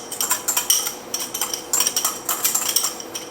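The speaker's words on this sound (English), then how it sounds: "I'm going to take our eggs and mix that stuff together." Eggs whisked in a bowl for profiteroles: rapid, bright metallic clinks of a utensil against the bowl in quick rhythmic bursts, close and fairly loud, with no talking.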